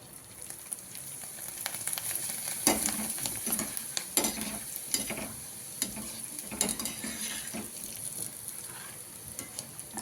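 Bhungla snacks deep-frying in very hot oil, a soft continuous bubbling sizzle close by with occasional clicks and scrapes of utensils, fairly quiet, no voices.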